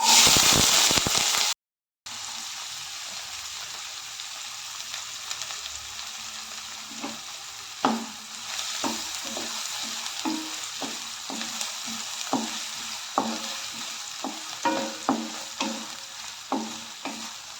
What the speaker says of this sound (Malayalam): കുറച്ച് ഉലുവ ചേർക്കാം. ഇതിലേക്ക് ചെറിയുള്ളി ചേർക്കാം.